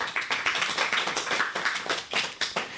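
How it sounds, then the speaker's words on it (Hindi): Children in a school program audience clap together in steady, dense applause, with no voices over it. "तो चलो एक बार पुनः तालियों से धन्यवाद करते हैं हमारी नन्ही पहेली मास्टर का"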